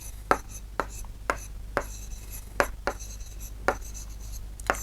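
A line segment label is written on a classroom board in a string of sharp, evenly spaced taps and scratchy strokes, fairly close, with a low steady hum behind and no speech.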